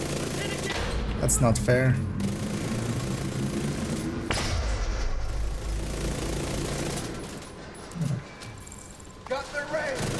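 Enemy gunfire aimed at the player in a shooter game: bursts of rapid shots and thuds over a rumbling engine-like background, fairly close, with someone talking over parts of it.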